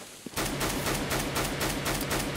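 Auto sniper rifle firing in Counter-Strike on the de_dust2 map, a fast steady string of loud, close shots that begins abruptly after a brief click and keeps a regular rhythm, with no voices.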